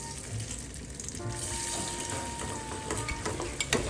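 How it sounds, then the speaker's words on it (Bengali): Boiled pasta is tipped into a strainer to drain, giving a rushing, splashing pour of water with clattering and stirring noises throughout, moderately close and steady for a few seconds. "তো অলরেডি হয়ে গিয়েছে, আমি পাস্তাগুলোকে ছেঁকে নিচ্ছি।"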